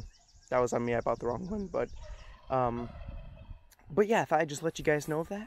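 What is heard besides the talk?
geese honking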